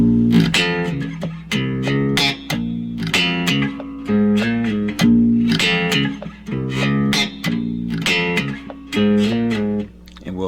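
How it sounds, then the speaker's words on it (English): Bass guitar playing the ending riff of a song, a repeating syncopated pattern of punchy plucked notes, loud and steady with no talking. "we'll do our ending riff, which will be a variation of that riff"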